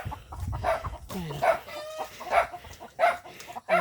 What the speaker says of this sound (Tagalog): Marami po siyang alagang mga manok na pansabong.